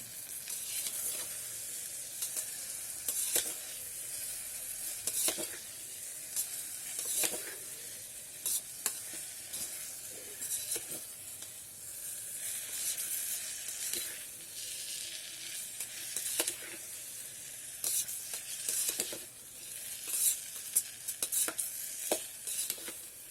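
Pasta with masala being stirred inside an electric kettle, a steady wet sizzle and bubbling with repeated soft scraping strokes running continuously at moderate, fairly faint level, no voices.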